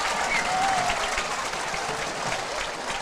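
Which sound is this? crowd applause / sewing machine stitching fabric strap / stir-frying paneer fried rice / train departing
crowd applause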